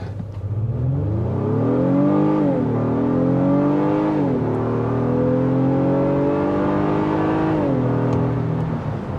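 A 2023 Honda Pilot Trailsport engine pulls hard from a standstill to 60 mph, its pitch rising steadily through several gear changes, loud and close, with no one talking.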